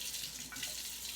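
Water runs from a sink tap to rinse a fork. It is a steady, soft gush with no breaks for about a second.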